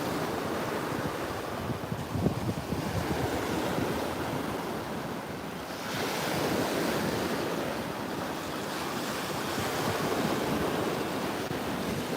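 Steady wash of surf breaking on a Sanibel beach at sunset, low roaring waves rolling in continuously with wind noise on the microphone, no voices.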